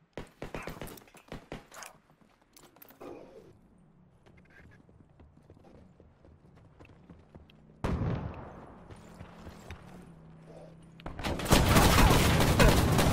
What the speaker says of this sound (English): There's more shooting from behind.